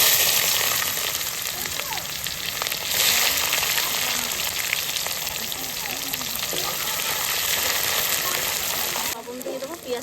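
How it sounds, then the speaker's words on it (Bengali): Onions fry in hot oil seasoned with whole cumin, dry red chilli and bay leaf, a loud continuous sizzle with occasional stirring scrapes, dropping off sharply near the end. "এবার পেঁয়াজ দিয়ে দেবো।"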